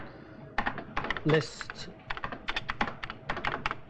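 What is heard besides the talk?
typing on a computer keyboard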